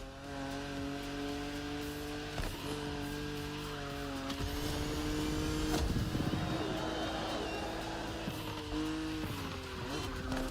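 A BMW Z roadster races in The Crew Motorfest, its engine droning at a steady, sustained pitch with brief tire squeals and a rising swell of roar midway, fairly close and continuous.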